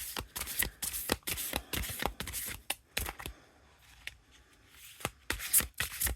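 Tarot cards are shuffled in a run of crisp riffling bursts, close by, with short pauses between the flurries and faint talk in the background.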